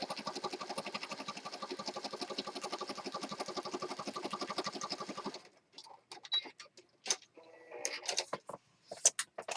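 A sewing machine zigzag stitches around a carnation on scrap journal cards, its rapid steady mechanical chatter running loud and even for about five seconds before stopping, followed by scattered handling clicks and rustles.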